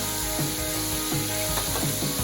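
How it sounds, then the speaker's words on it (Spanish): Onion frying slowly over low heat in a wide paella pan, a continuous soft sizzle with light scraping or stirring strokes recurring through it, no voices. "la cebolla la hacemos a fuego lento"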